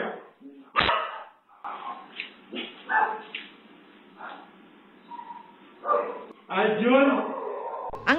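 A dog at a house barks and yips in short bursts while a man drives it away with a slipper, with people talking over and between the barks.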